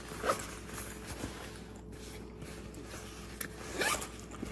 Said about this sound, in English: The main compartment is also a zipper pocket.